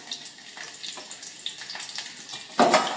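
Chillies sizzling as they drop into hot oil for a Sindhudurg-style red amaranth and val bean vegetable dish, a faint crackle building to a sudden loud, close burst of frying near the end.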